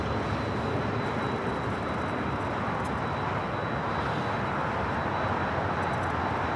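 A Latam Boeing 767-300ER taxis at LAX, turning left onto a taxiway, its engines giving a broad, steady roar with a faint high whine, constant and fairly distant.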